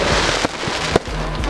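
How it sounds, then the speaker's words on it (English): Homecoming fireworks boom over a high school football game in Cashmere, a dense crackling roar with sharp bangs at regular intervals, loud and continuous with no talk. "as you can probably hear the fireworks going off right behind me here in Cashmere"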